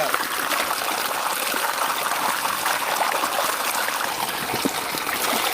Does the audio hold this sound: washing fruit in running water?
yes